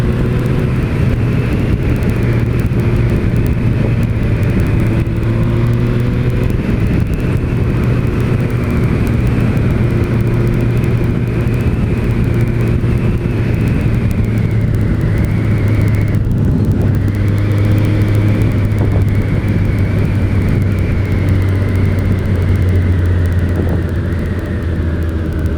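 A 2006 Suzuki GSX-R 1000 K6 sport motorcycle is being ridden, with a loud, continuous engine drone and road rumble whose pitch rises and falls through gear changes, mixed with heavy wind noise.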